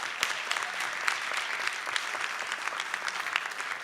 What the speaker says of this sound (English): let's have a round of applause for all of our Bingham Fellows